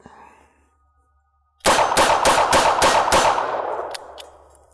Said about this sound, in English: I'm going to take aim and just pop it all out